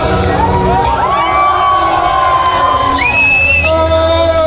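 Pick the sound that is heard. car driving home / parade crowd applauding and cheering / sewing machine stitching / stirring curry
parade crowd applauding and cheering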